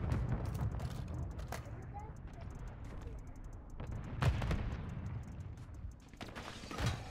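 Gunfire in the video game Modern Warfare 3 during a ranked match, with sharp shots and thuds under busy game noise while a player talks over it.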